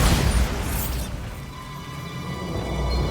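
A Bombarda blasting spell from Hogwarts Legacy goes off with a loud boom and burst at the start, then fades into a low rumbling, mechanical hum with faint rattling.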